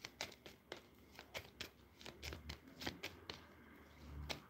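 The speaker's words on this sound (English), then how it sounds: "I will shuffle cards for you." Tarot cards being shuffled by hand, a quiet run of soft riffling taps and crisp flicks in an uneven rhythm, close and alone with no talk.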